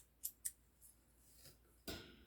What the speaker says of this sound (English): chain 1 and just snip that off